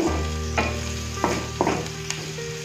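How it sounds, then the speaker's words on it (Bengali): Chopped garlic and onion fry in oil, a bright close sizzle broken by several sharp stirring scrapes spaced about half a second apart. "এবার একটু রসুন কুচি দিয়ে দিচ্ছি, একটু পেঁয়াজ কুচি দিয়ে দিচ্ছি।"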